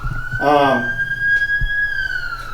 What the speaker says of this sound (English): Sorry, there's sirens there.